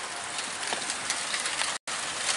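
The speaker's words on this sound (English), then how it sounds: "It's raining." Steady rain falling outdoors during a thunderstorm in Okehampton, a dense continuous hiss of drops on surfaces, close and even throughout, with one very brief dropout near the end.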